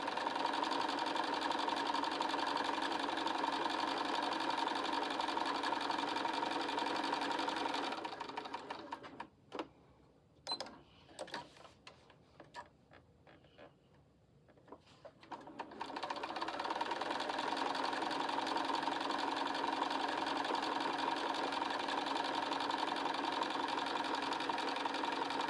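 Sewing machine stitching a valentine mug rug, running in a long steady whirring burst, pausing for several seconds with a few clicks and handling noises, then resuming at the same even pace.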